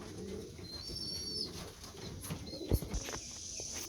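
Young racing pigeons arriving back at the loft: soft cooing and a few short wing-flapping bursts, faint and somewhat distant over quiet outdoor background.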